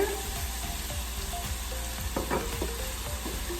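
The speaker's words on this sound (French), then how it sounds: "on va laisser cuire nos échalotes, là, nos oignons verts, avec l'ail dans l'huile de sésame" Shallots, green onions and garlic frying in sesame oil for garlic fried rice, a continuous close sizzle with soft stirring clicks and a few brief pops.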